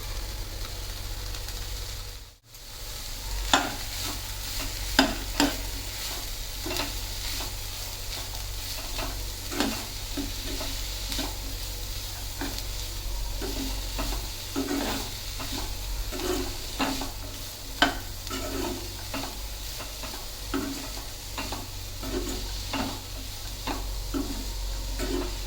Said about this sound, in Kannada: ಈಗ ತುರಿದುಕೊಂಡಿರುವ ಬೀಟ್ರೂಟ್ ಹಾಕ್ಕೊಳ್ತಾ ಇದ್ದೀನಿ. ಒಂದು 5 ನಿಮಿಷ ಫ್ರೈ ಮಾಡ್ಕೊಳ್ಬೇಕು.